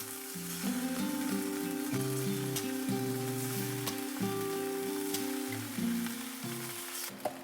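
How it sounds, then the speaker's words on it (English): Tofu searing in avocado oil in a non-stick pan over medium heat, a steady close sizzle with fine crackling spits and a few brief pops, continuous with no talking, while soft music plays underneath. "Sear the tofu for 2 to 3 minutes on each side."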